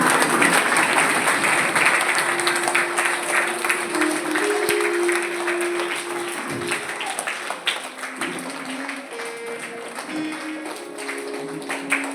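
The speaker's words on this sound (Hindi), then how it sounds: "आप लोग खड़े हो जाएं और जोरदार तालियां बजा के इस कार्यक्रम को" An audience at a talk for parents claps loudly in a long, steady burst of applause that thins slightly toward the end, with scattered tones and faint voices beneath.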